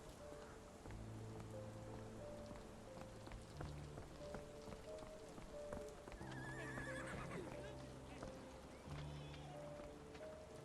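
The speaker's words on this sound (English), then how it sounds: "Why is there just a random horse?" A horse whinnies over steady clip-clopping hooves, backed by a continuous layered music bed and a patter like rain, in the video game Sherlock Holmes: The Awakened.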